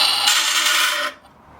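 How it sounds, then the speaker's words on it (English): Small, low-powered tabletop grinder fine-tuning metal pergola brackets, a steady close abrasive hiss and rasp lasting about a second before stopping abruptly into quiet. "I'm just going to do it with this tabletop grinder just to fine tune it"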